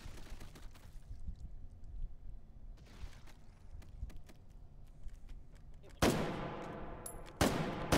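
Game shotgun blasts, two loud sharp reports near the end following a stretch of quieter scattered in-game gunfire and background noise.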